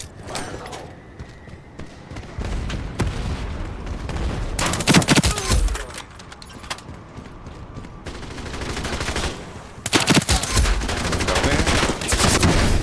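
Automatic weapon fire from an Ironsight online shooter match, with repeated bursts of submachine gun shots and loud clustered volleys near the middle and end, mixed with game effects and a voice talking at times.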